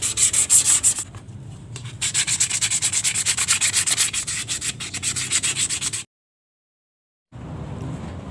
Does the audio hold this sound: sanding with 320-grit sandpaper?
yes